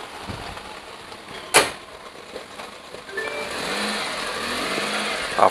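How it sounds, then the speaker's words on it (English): A restored 15-year-old Maruti 800 drives out for a test drive after mechanical repairs, the small engine rising steadily in pitch as it pulls away, with a sharp knock early on. "So the car is leaving out."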